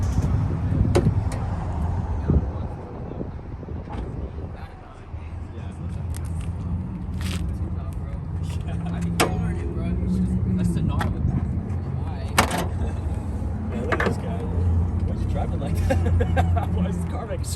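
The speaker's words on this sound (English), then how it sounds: "Why is the car making so much noise?" A car engine idles and rumbles at a busy car meet in Fort Worth, steady and fairly close, with crowd chatter and passing traffic around it and occasional sharp clicks and knocks.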